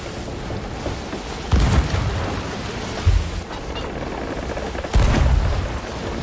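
Cannon fire in a naval battle video game: three heavy booms spaced a second or more apart, loud and close, standing out over a constant rumbling battle din.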